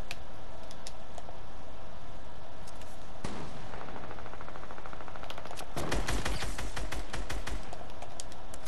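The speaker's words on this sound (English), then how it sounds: "I was just shooting him a bit. I have Sky's assault rifle, by the way." Assault rifle fire in Fortnite, several rapid automatic bursts growing denser and louder toward the end over a steady game-ambience bed.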